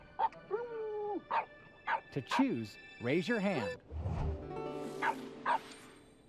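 A dog barks in short, high yapping bursts from a French bulldog character in a Nat Geo TV video game, several quick barks in a row, with a narrator's voice speaking around them.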